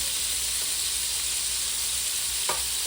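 Cornmeal-coated shrimp fry in hot grease with butter sauce, a loud, dense, continuous sizzle with a brief clunk near the end and no talking.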